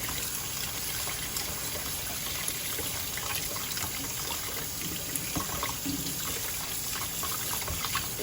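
Cold water runs steadily from a sink tap over saltfish being stripped, a constant close splashing gush that continues uninterrupted without talk.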